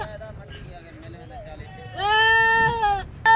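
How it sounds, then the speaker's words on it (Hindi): Sheep bleating at a crowded livestock market, a sustained, loud, wavering call near the end that rises over steady crowd chatter, with a second call cutting in at the close. "जिस तरह ये भेड़े हैं ये भी काटू पे जा रही हैं।"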